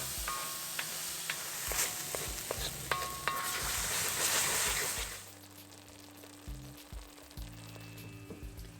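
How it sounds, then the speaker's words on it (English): Tomatoes with ginger garlic paste sauté in a pan, giving a steady sizzle with scraping stirs and light clinks, loud through the first half, then a quieter simmering hiss with occasional utensil taps. "I'll add the ginger garlic paste. We'll saute these until the tomatoes turn nice and soft."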